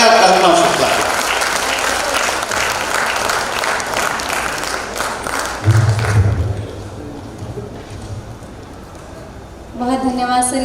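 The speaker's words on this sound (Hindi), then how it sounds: "जोरदार तालियां कल्पना शुक्ला।" An audience clapping for poet Kalpana Shukla, loud dense applause for about six seconds that fades, with a thud and a voice starting to speak at the end.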